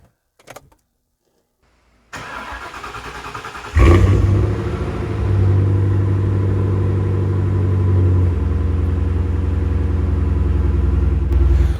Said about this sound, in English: I think it's just such a treat to stand here and listen to this car run and, well, burble away